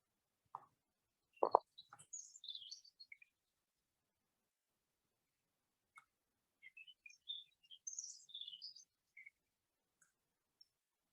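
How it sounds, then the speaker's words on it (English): Two white-breasted nuthatches call in two distinct voices, each giving a short run of high, nasal chirps, separated by a pause and heard clearly against quiet outdoor surroundings. "Right now I'm hearing 2 white-breasted nuthatches making two completely different sounds"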